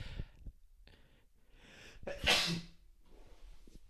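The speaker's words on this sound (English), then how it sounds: "A little sneeze to get us going." A single close sneeze with a sharp intake of breath before the burst, surrounded by quiet rustling.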